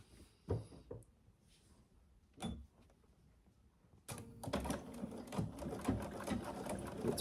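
A seam is sewn in the corner of a white lined valance. A few isolated clicks and thumps come first, then a continuous mechanical whirr of stitching runs through the second half, and no one speaks.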